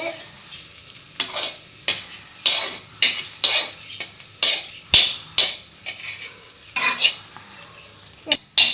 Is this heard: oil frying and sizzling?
yes